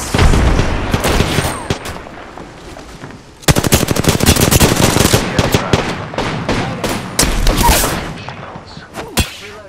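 Rapid automatic gunfire in the battle-royale shooter Apex Legends, loud, dense bursts of shots that pause briefly near the middle and then resume at full intensity.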